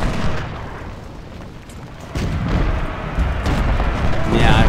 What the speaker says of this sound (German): jetzt kommen die Kanonen von Richardson da oben